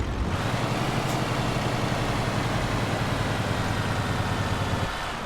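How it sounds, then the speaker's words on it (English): A truck's engine retarder in Euro Truck Simulator 2 gives a steady, loud low rumble with a gritty mid-range drone that holds evenly for about five seconds before cutting off abruptly near the end. "This is what an engine retarder sounds like."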